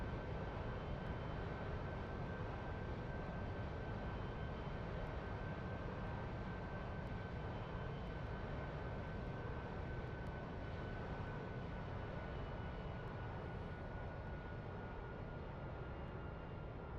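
AI-controlled airplanes taking off in a flight simulator game with a Harrier in view, giving a steady, loud engine roar and broadband rumble that holds unbroken throughout, with a thin high whine on top and no talking.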